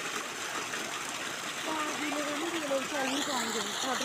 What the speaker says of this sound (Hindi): कितना अच्छा पानी आ रहा है यहाँ पे, ये देखिए ट्यूबवेल लगा हुआ है